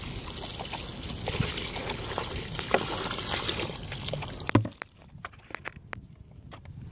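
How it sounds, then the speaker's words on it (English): Activated gopher control goo being poured down a ground squirrel hole outdoors, a steady trickling gush for several seconds that stops, followed by a few scattered soft taps and rustles. "what we'll do is pour this down into the hole"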